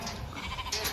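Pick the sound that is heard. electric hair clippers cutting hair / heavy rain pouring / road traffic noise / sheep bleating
sheep bleating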